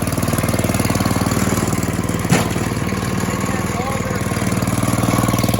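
An Ariens 11528 snow thrower engine runs steadily at a loud, close, even idle-like drone with a brief clunk partway through.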